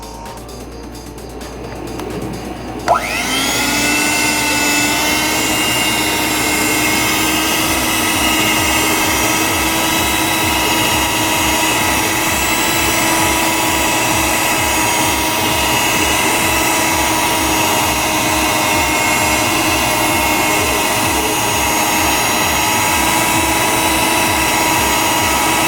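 An electric hand mixer whips cream, starting after a few quiet seconds and then running as a loud, steady motor whine with a rapid rhythmic beating that continues unbroken to the end.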